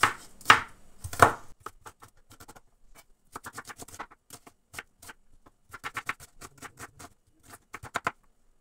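A knife chops meat and onion finely on a board, with two loud strikes at the start followed by a long run of quick, crisp rhythmic taps, close and alone without talk.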